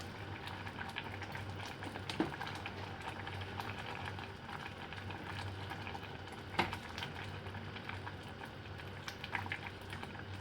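A pot of monggo soup with leftover fish and ampalaya bubbles at a low simmer while being stirred, with a quiet continuous burble and a few faint spoon clicks against the pot.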